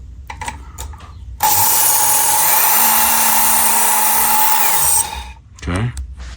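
A Work Sharp Ken Onion Edition belt sharpener grinds a knife blade along its moving abrasive belt with a loud, steady high-pitched whine lasting several seconds. Quieter mechanical clicks come before it, and the motor winds down afterward.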